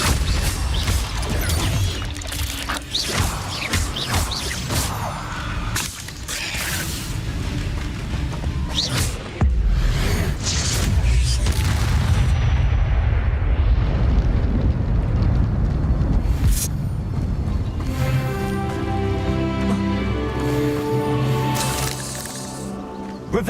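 Incendio fire spells cast during Hogwarts Legacy gameplay, loud whooshing bursts and crackling impacts in quick succession, over a game soundscape that ends with sustained musical tones.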